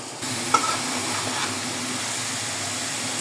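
Chopped vegetables and potatoes are stirred and fried in a pan, giving a steady, close sizzle with a light clink near the start.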